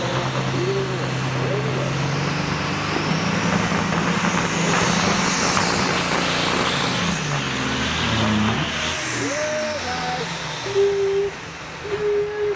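Big rig racing truck engines at the Onaway Speedway Great Lakes Big Rig Challenge, a steady loud rumble with shifting pitch, a rising whine and hissy air-brake bursts, under an announcer talking over the track.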